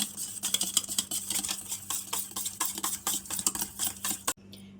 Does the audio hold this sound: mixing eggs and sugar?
yes